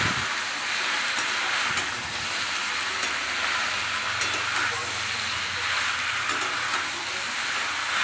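Chicken stew cooking in a pot, a steady hiss and sizzle with faint scraping as it is stirred, continuous and fairly close.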